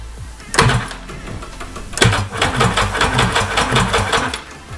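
A freshly assembled WaveRaider big bore 1100/1200 engine with no fuel cranks over on the starter, giving two bursts of rapid rhythmic chugging and whirring, loud and close, without ever catching.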